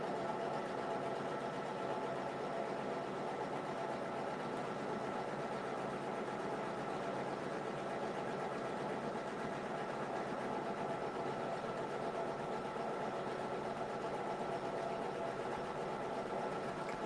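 An embroidery machine stitches out a fabric mug rug with a continuous, even mechanical whirr and rapid needle chatter, steady and fairly quiet from start to finish, with no talking.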